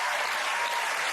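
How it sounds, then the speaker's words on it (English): A studio audience at a comedy quiz show bursts into brief, dense applause, loud and close, a uniform wash of clapping that holds steady for about a second. "Round of applause."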